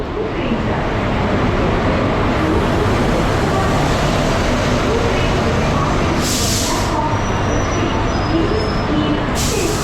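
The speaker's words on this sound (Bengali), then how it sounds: "এই হচ্ছে আমাদের ট্রেন ঢুকছে 58025 দীঘা ফার্স্ট প্যাসেঞ্জার" Digha Fast Passenger train 58025 rolls into a station platform with a loud, continuous rumble, and two brief bursts of hissing air cut in near the end.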